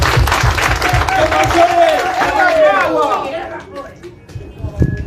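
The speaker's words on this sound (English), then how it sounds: "Can we give them a loud clap?" Audience at a justice forum launch event bursting into loud, sustained applause, with cheering voices and crowd chatter mixed through it before the clapping thins out.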